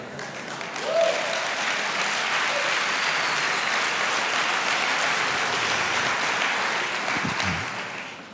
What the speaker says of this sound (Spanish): No sé por qué usted aplaudió,